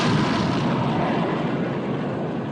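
Naval guns roar in a 1960 war film, a dense rumbling barrage with a continuous heavy boom and no distinct pauses, loud throughout.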